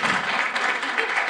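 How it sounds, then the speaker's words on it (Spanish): Audience applause after a university faculty talk on housing-related illness, a brief dense burst of clapping from a seated crowd, steady and fairly loud throughout. "Démosle un aplauso a la doctora Holly"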